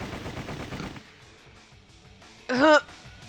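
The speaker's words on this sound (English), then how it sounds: "More bullets cracked and pinged off the walls and ceiling, tearing away parts of them." Rapid gunfire from the Sweet Fuse video game crackles in dense, loud bursts for about a second, then drops to a low hum. A brief tonal cry rises near the end.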